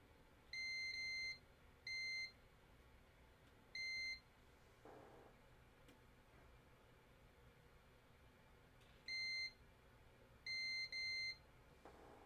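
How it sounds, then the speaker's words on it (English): Sharp electronic beeps from a multimeter's continuity tester during a Disney lightsaber repair, a few in a row then a pause, then several more, clear against quiet background hiss. "Now we get continuity beeps."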